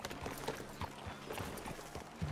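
Horse hooves clip-clop at an easy, steady walking rhythm in the video game Red Dead Redemption, quiet and fairly distant, with a few separate thuds and no talk.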